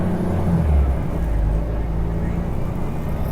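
A Transperth bus on express route 904 at Perth Busport, its motor running with a steady low rumble and whir heard close from inside, continuous and fairly loud with no speech.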